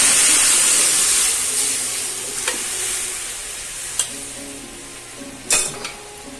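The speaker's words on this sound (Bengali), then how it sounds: "কড়াইয়ের মধ্যে সবজিটা ঢেলে দেবো।" Boiled vegetables tipped into a hot wok with mustard seed and curry leaf tempering, giving a loud steady sizzle that slowly settles, with a few sharp clinks of a spatula stirring against the metal pan.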